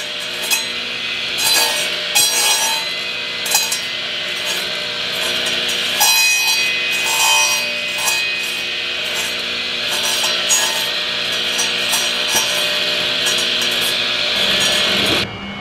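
A worker sanding wooden pieces in a shop makes a steady, loud abrasive scrubbing that is broken by sharp clinks and knocks. The sound carries on alone without pause for the whole stretch.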